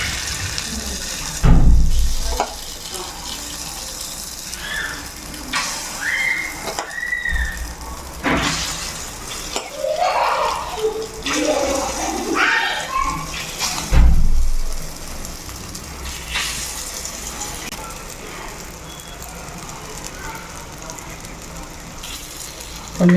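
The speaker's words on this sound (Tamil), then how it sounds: "இப்போ பணியாரத்தை ஊற்றுவோம்." Egg paniyaram batter is poured into hot oil in a kuzhi paniyaram pan, giving a loud, steady sizzle and frying hiss with repeated splashy pours over about twenty seconds.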